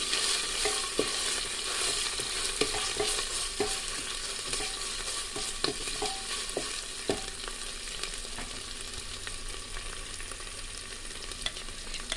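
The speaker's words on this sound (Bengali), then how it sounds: "আমি সব মশলা একটু ভালো করে ভেজে নিচ্ছি।" Spice paste frying in a pan for a chicken curry gives a constant dense sizzle, with irregular clicks and scrapes of stirring, close by and steady throughout, no voices.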